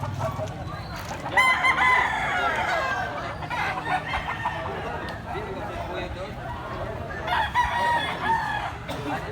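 Roosters, including White Kelso gamefowl at a game farm, crow repeatedly, one call near the start and others later, with clucking fowl and people talking in the background.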